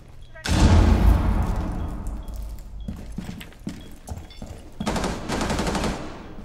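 Rapid bursts of automatic gunfire and scattered single shots during a Rainbow Six Siege team deathmatch on the Kafe map, loud and close at first, then continuing in irregular volleys with voices talking over the firefight.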